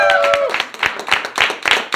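An audience at a stage interview event claps to welcome a guest, distinct uneven bursts of hand claps close by, with a voice briefly heard at the start.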